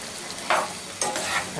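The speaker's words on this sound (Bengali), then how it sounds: "চিনিটা একটু ভালোভাবে মিশিয়ে দিচ্ছি" Sugar is stirred into an oil-free beef curry in a pan, with two short, close scraping strokes of a spoon over a soft sizzle.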